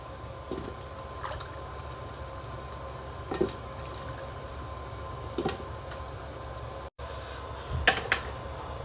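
Yam porridge simmering in a pot, a soft steady bubbling bed with occasional small wet pops and gurgles rising from it, quiet and close.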